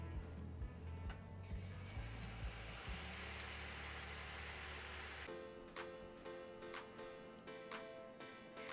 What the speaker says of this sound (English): I'm gonna keep frying all the batches until I have all of our onions done.